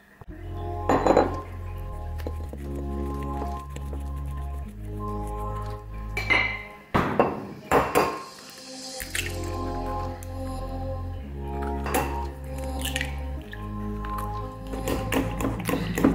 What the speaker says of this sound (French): on met les œufs et la banane et on vient mélanger et écraser